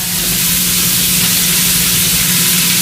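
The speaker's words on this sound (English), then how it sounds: "I just add it to the fat that's already in the pot. And then I start sauteing that" About two pounds of onions sauteing in bacon fat in a pot, giving a loud, dense, continuous sizzle with an even hiss and no pauses.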